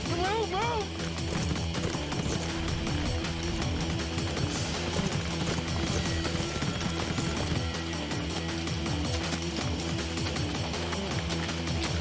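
Horses running close by over wobbly, rocky footing, their hoofbeats pounding continuously under loud voices.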